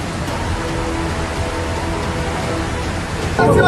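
Continuous loud roar of floodwater rushing after a cloudburst near Jageshwar temple in Uttarakhand, a dense steady wash of noise that swells slightly louder at the end.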